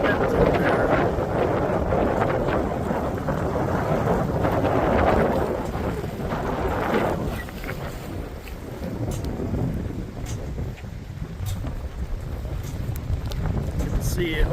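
Strong wind roars and buffets the microphone during a severe-warned storm under an approaching shelf cloud, a continuous loud rumbling gust that barely eases throughout, with no clear talking.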